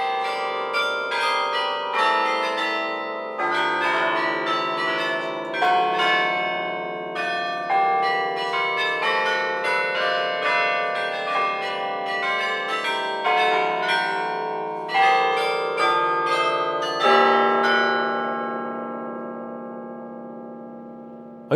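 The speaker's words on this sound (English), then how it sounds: "you can experience the bells sounding in all their glory as the clock strikes and the carillon begins" Carillon bells ring out from a clock tower in Bruges, Belgium, a continuous melody of many overlapping tolling notes with long resonant decay, loud and ringing without any voices.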